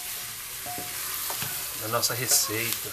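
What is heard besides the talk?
beef stirred and frying with onion and garlic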